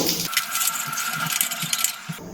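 Panch phoron spices hit hot mustard oil in a pan, giving a bright, continuous sizzle with small crackling pops and light clinks, fairly loud and close, without speech.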